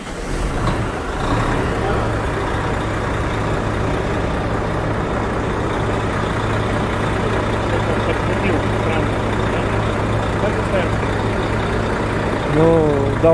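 A Volvo FH13 truck engine with a valve cover knock, at high mileage, runs at a steady, loud diesel idle after starting, its low rumble continuous throughout with a few faint voices.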